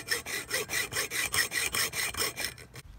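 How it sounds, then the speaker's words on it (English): A hacksaw cuts through copper pipe in steady, regular back-and-forth strokes, about ten in quick succession. The sawing is close and loud, with no other sound, and fades out at the end. "Use a hacksaw, basically."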